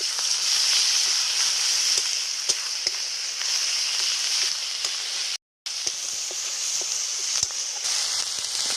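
Ground spice pastes of onion, green chilli and garlic sizzle steadily with fried onions in a pan for goat meat curry, a continuous close frying hiss with small crackles and one brief dropout.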